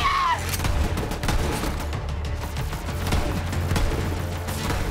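Gunfire from the video game Borderlands 3 in a close-quarters fight, a constant dense stream of rapid shots and impacts over a steady low rumble, with no letup at any point.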